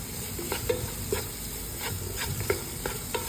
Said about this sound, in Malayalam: അതിലേക്ക് നമുക്ക് സോയാബീൻ ഇട്ട് കൊടുത്ത് നല്ലോണം വഴറ്റിയെടുക്കുക.